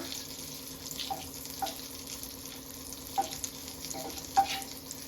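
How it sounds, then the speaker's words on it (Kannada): Vegetables fry in melted butter and oil in a pan for veg fried rice, a low, steady sizzle with a few sharp clinks of a utensil against the pan. "ಸೊ ಬಟರ್ ಒಂಚೂರು ಮೆಲ್ಟ್ ಆಗಲಿ, ಅದಾದಮೇಲೆ ಒಂಚೂರು ವೆಜಿಟೇಬಲ್ಸ್ ಹಾಕ್ಕೊಳ್ಳೋಣ"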